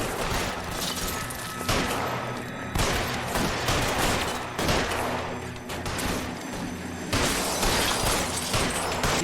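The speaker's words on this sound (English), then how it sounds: "Do you have to shoot out every window?" Rapid, dense gunfire fills a scene in the L.A. Noire video game as shots blow out windows, with loud, continuous bursts and booms that run for several seconds and leave no pauses.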